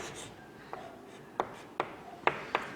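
A pen writes an equation by hand, giving quiet, close scratches with a few crisp taps spaced about half a second apart and no voice over them.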